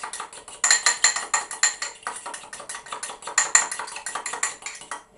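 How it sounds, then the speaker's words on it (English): Egg and mustard seasoning being whisked in a bowl with a utensil, a rapid run of rhythmic metallic clinks and scrapes, close and fairly loud, pausing briefly before resuming at a quick steady pace. "I'm going to tip the seasoning in with the egg, and I'm going to give it a good old mix"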